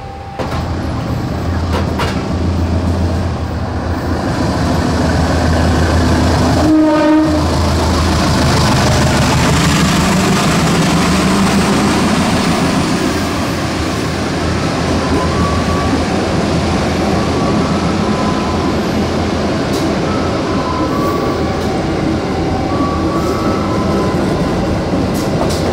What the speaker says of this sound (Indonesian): Bentar lagi kita bakalan menyaksikan kereta api Sancaka melintas langsung di Wonokromo.